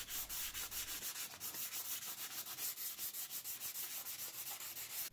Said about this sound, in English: we will be using some 180 grit sandpaper to lightly sand the area